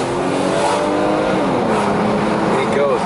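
A 1995 Mercedes-Benz W124 station wagon accelerates with a rising engine drone from inside the car, heard under someone talking throughout.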